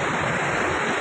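Water rushes at speed through an open gate of the Rengali dam, a steady, loud roar of surging water filling the whole second with no break.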